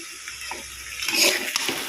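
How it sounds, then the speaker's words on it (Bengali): Water is poured into a pan of potato curry after the spices and oil have been fried, a short close splashing rush that swells in the middle of a brief moment, with no talk. "এই এটা আমার কষানো হয়ে গেছে এবার জল দেব"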